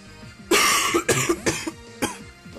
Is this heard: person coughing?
yes